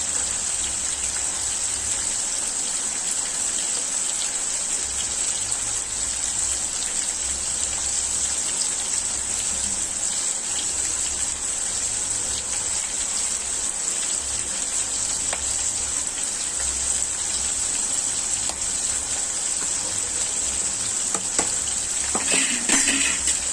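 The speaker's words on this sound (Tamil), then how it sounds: "இப்போ எல்லாத்தையும் நல்லா வதக்கிக்கலாம்." Curry leaves and sardine curry ingredients sauté in a hot pan with a constant, rain-like sizzle and hiss. It sounds close and even throughout, and a few utensil clinks come near the end.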